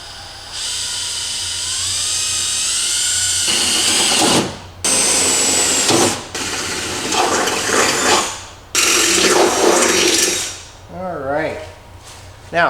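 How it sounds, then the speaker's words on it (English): A power drill fitted with a 9/32 bit bores holes through metal while installing an Altman Easy Latch, shrill high whining bursts that start and stop in several runs, with a spinning-down warble near the end. "we'll drill it out with a 9/32 drill bit"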